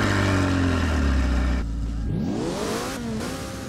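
McLaren car in Roblox Driving Empire revving hard with a rising whine, then dropping off and swooping back up through quick throttle blips, loud and close.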